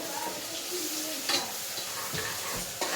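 Garlic, ginger and chillies fry in a pan with a soft, steady sizzle, stirred now and then with a few light scrapes and taps, quiet and close.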